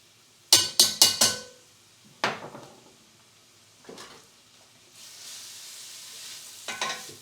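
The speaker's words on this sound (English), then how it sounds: "Stir about to coat it in the oils" Onions and minced garlic are stirred in hot oil in a pan, giving several sharp scraping clatters near the start, then a few more stirs over a soft, steady sizzle.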